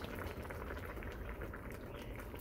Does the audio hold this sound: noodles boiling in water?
yes